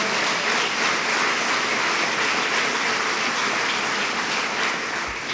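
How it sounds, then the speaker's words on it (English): A crowd claps steadily and loudly, a dense, continuous wash of applause that holds throughout. "Let's give him a round of applause."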